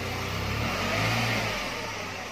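A car left parked for over a month during lockdown is started and taken out for a wash; its engine rumbles close by and revs up briefly before settling.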